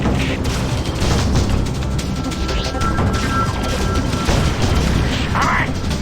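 Spaceship weapons fire in the game Freelancer, rapid booming shots and crackling impacts forming a dense, loud barrage, with a voice speaking over it.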